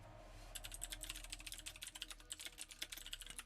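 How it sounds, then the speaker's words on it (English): Rapid, uneven clacking of keys on a mechanical keyboard, close and fairly quiet, starting after a half-second pause and continuing in bursts with no talking. "Sorry for, like, mechanical keyboard ASMR there for a sec"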